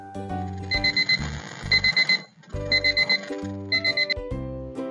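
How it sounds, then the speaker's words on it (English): An alarm clock rings in repeated bursts of rapid, bright ringing over a sustained tone, the pattern pausing briefly and starting again, loud and alone. "Yes, it is an alarm clock."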